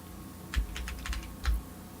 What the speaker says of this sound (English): It's hard to type when you're typing over this way.